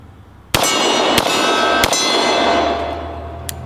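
Three loud 10mm pistol shots crack in quick succession, each with a sharp onset and a long ringing tail, close and alone with no talk.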